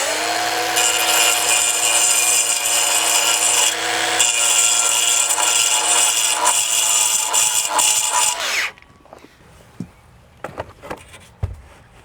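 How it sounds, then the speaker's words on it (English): A grinder runs against the back of a Versetta manufactured stone veneer piece, shaving off built-up concrete aggregate with a loud, steady whirring grind for about eight seconds before cutting out, leaving scattered faint knocks and handling noises. "I think I'm going to do the grinder first, Greg"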